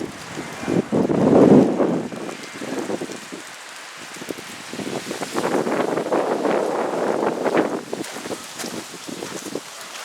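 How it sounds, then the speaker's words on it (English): A slight outdoor breeze rustles and buffets steadily in a broad, soft wash, with a stronger gust early on and then a gentler, fluttering flow. "A slight zephyr."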